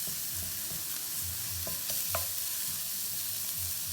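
Bacon sizzles in a hot skillet, a steady crackling fry with a few faint stirring scrapes and pops, close and alone.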